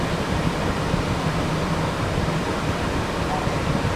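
Air conditioning fan blowing inside a Volkswagen Caravelle van, a loud, steady broadband rush of air that stays constant throughout, with no voices over it.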